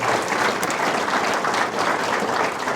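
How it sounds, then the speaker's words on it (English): Steady, dense applause from an audience at an event honoring local Chinese merchants in Arizona, loud and continuous throughout with no voices standing out. "I'd like you to give them a nice round of applause."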